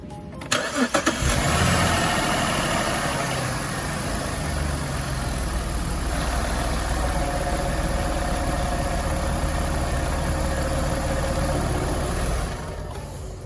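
A 2008-2012 Jeep Liberty engine cranks briefly and catches after an oil change, then settles into a steady, even idle that runs for about ten seconds before cutting off.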